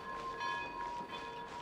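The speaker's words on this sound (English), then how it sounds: "I bet you can just stay in there and take this train all over the place." A train rolls along in the video game Genshin Impact, heard as a faint, steady mechanical hum with sustained ringing tones and soft rhythmic swells, and no one speaks.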